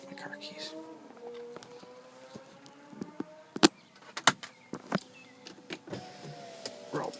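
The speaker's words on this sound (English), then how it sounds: "Roll up the window." A Tesla Model S power window motor whines in a rising, steady hum as the glass rolls up, with clicks and thumps around it and a voice speaking in the cabin.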